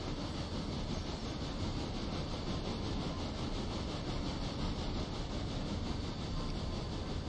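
A locomotive in the train game Railroader rumbles along in a steady, loud mechanical drone, with a faint rhythmic clatter of wheels on rails and no voices.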